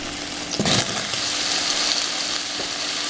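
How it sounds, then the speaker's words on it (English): Diced bacon and small-cut potatoes frying in a skillet, a steady loud sizzle with a brief stir and clatter near the start and a light knock later, no voices. "I'm going to let this cook with the lid on for about 5 to 6 minutes, and just every few minutes to go in and stir it up"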